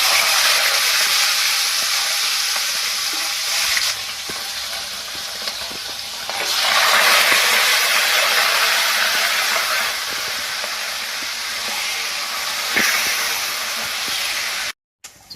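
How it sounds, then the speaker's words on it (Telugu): Pieces of dry fish sizzle in hot oil for an Andhra-style dry fish tomato curry, a loud, dense, continuous frying hiss that swells in waves, with a few faint clinks and no talking. "ఆయిల్ వేడి అయిందండి ఇప్పుడు దీంట్లో మనం చేప ముక్కలు వేసేసుకుందాం"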